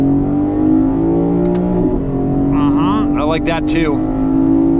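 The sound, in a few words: Lexus IS500 engine revving in paddle-shift manual mode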